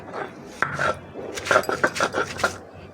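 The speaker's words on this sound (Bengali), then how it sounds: "এখন আমি সজনে পাতাগুলি একটু এটাও একটু আধা বাটা করে নিব" Drumstick leaves for a bora and bharta recipe being half-ground into a coarse paste, heard as close, rough rhythmic grinding strokes and knocks in quick irregular bursts, with no talking.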